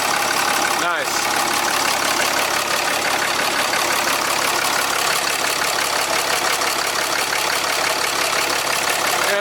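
A Cummins 6.7 diesel truck engine idles with its valve cover removed after a valve lash adjustment, a loud, steady, close rumble with exposed valvetrain ticking and brief talk in the background.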